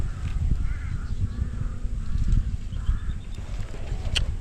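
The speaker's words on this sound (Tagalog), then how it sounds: "Ang dami pa uwak." A flock of crows caws repeatedly in short rasping calls, spread out and moderately distant, over a low rumbling outdoor background near a mulberry tree.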